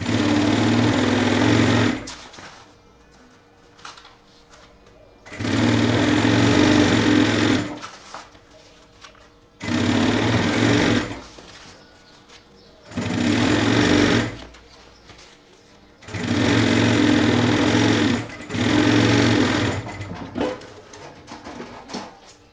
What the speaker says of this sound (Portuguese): unir aqui e passar uma costura de segurança fechando